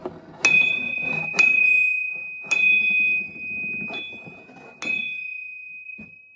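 A forged steel MTZ tractor differential spider rings out with a clear, sustained bell-like tone after each of several sharp strikes, each ring lingering and fading.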